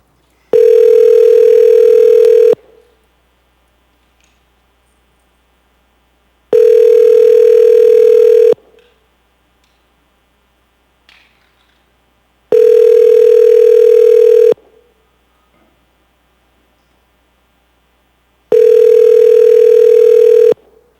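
Telephone ringback tones while a call is placed during an assembly meeting, four loud, clean two-second tones separated by about four seconds of silence, no talking.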